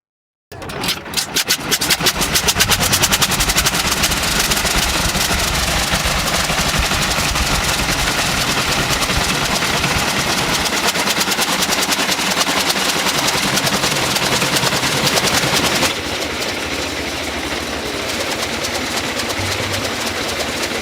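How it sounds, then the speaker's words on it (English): An old rotary engine, its block spinning around a stationary crankshaft, running with a loud, rapid, steady stream of firing pulses that continue for the whole stretch, the tone shifting slightly partway through. "a rotating engine block around a stationary crankshaft, similar to the early rotary engines used in aircraft"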